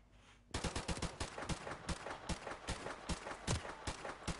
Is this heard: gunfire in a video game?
yes